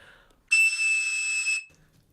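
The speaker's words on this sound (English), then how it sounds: "To mimic the 2600 Hz tone, some people would even use a toy whistle from a Cap'n Crunch cereal box." A Cap'n Crunch toy whistle sounds one clear, piercing, steady tone for about a second against near silence.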